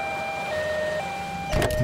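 A two-tone ambulance siren alternates between high and low pitches over traffic, and a sudden burst of rushing noise comes at the end.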